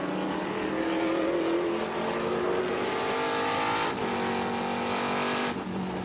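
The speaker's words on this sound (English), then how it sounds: "I'm going to try to keep the engine noise coming up" Trans Am race cars at Sonoma Raceway roar continuously, engines climbing in pitch under acceleration and dropping on shifts, loud and sustained with no voices.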